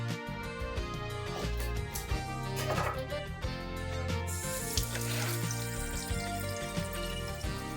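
Cold water runs steadily from a tap into a sink, splashing over oxtail meat being washed, with a few clinks and handling noises; close and continuous, no talking.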